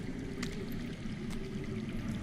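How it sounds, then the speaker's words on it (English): Underground water flows steadily in the Game of Thrones video game, a constant close rushing wash with a low rumbling bed and no breaks, heard without any voices. "I hear water. From underground."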